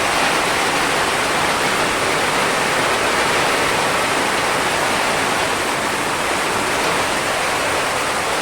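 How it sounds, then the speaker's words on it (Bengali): Steady, heavy rain hisses continuously and evenly, a dense wash of sound with no breaks and no voices. "দেখতে পাচ্ছ তোমরা বৃষ্টি হচ্ছে"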